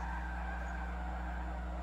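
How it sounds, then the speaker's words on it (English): Tire skid from an F1 car drifting backwards in Forza Motorsport 7, a steady sustained squeal held over a constant engine drone for the whole stretch, no talking. "That's backwards drift in an F1 car"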